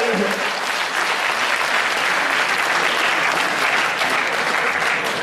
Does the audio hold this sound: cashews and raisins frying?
no